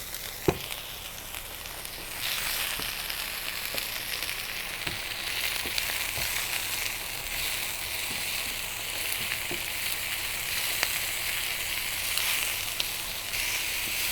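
Chicken and onion fry in a pan with a bright, continuous sizzle that swells after the first seconds, broken by occasional sharp crackles and spatters, close and with no talking.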